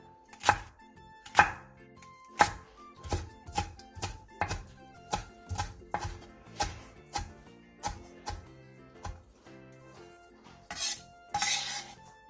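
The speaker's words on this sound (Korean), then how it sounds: "대파 1개의 흰대 부분을 길게 반으로 가른 뒤 채 썰어주세요." Knife julienning the halved white part of a green onion on a cutting board, a series of crisp, evenly spaced chops close up, with a few faster cuts toward the end.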